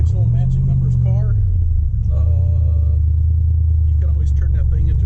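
1967 Corvette Stingray coupe with side pipes and Muncie M21 close-ratio 4-speed, deep low engine rumble while driving, steady and loud under someone talking over it.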